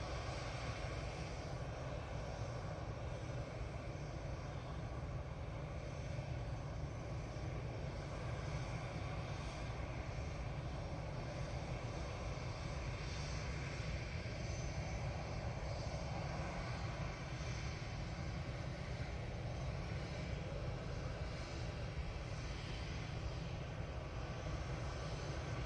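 EasyJet airliner in modified livery arriving from Belfast at Manchester Airport, a steady broadband engine roar holding at a constant level for the whole stretch, with no voices over it.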